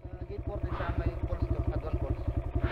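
A Kawasaki KLX 140 RF motorcycle engine chugs with a fast, steady pulsing beat, close and loud, on a ride toward a hot spring, with no one talking.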